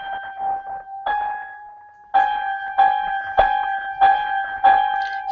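Two dissonant notes sound together, repeatedly struck as a pair in an uneven rhythm, each attack ringing briefly and clashing against the other, close and clear with no talk.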